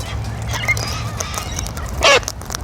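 A corella and cockatoos call, with faint scattered squawks early on and then one loud, harsh screech about two seconds in, heard up close.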